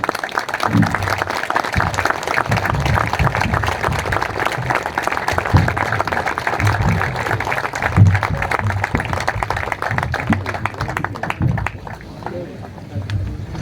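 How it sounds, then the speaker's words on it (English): An audience at a free eye-care hospital inauguration ceremony in Hazro claps in a loud, dense, sustained round of applause that carries on steadily and fades slightly at the close. "please give a big round of applause Canadian high commissioner miss Leslie اسکالن"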